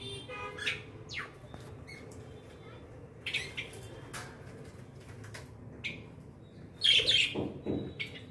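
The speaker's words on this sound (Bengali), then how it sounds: "এই পাখিগুলো আমার পাশের বাড়ির পাখি," Chirping from a neighbour's pet birds in a flat, heard as several short, bright calls scattered across the stretch, with a louder burst of tweets near the end over a low background hum.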